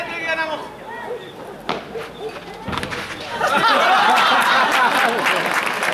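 Spectators applauding four players after a padel exhibition match at Costa Padel in Neuquén; chatter and laughter come first, then clapping swells into loud, sustained applause over the last half.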